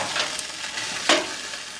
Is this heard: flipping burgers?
yes